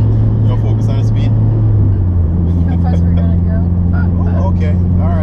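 A Mitsubishi Evo 9 MR SE warms up, its engine holding a steady, loud low idle drone with a slight shift in pitch partway through, while people talk over it nearby.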